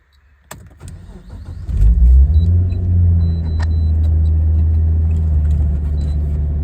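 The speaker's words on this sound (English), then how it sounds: "this is the cold start. It idles a little higher, obviously, on the cold start to get it up to temperature." A 1998 Nissan Skyline R34 25GTT cranks over and fires into a cold start, settling into a deep, steady, slightly raised idle that rumbles loudly up close after a few clicks.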